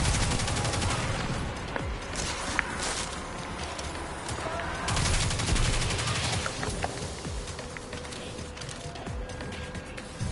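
Gunfire in the video game Destiny 2: dense bursts of rapid shots crackle continuously across the scene, loud and close, with sharper single reports standing out over a busy in-game background.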